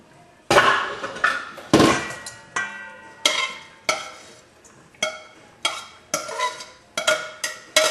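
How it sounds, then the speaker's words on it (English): Raw and cooked cabbage are tossed together in a bowl, producing a run of loud, close, rhythmic knocks and clatters from the utensil striking the dish, about a dozen in a row. "I'm going to take my raw cabbage and my cooked cabbage, and I'm going to mix them all together."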